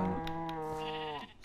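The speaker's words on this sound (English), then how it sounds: "Stupid sheep." A Minecraft sheep gives one drawn-out, wavering bleat, clear and steady for over a second before trailing off, with no talking.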